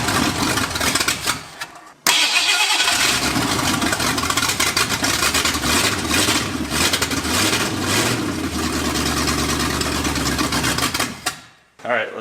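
Boat engine fitted into a 1979 Ford F150 truck, cranking with a harsh, sputtering mechanical roar that runs nearly continuously for about nine seconds between short pauses, loud and close.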